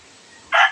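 Chickens outdoors on a windy day, heard as a brief loud squawk or crow near the end after a faint breezy background.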